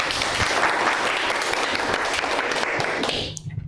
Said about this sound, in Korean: 강연을 맡아주신 강남훈 교수님께 박수 부탁드리겠습니다.